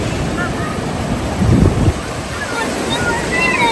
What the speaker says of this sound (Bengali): জাস্ট দূরের ঢেউগুলো দেখেন কত সুন্দর ঢেউ আসতেছে, কত বড় বড় ঢেউ দেখেন।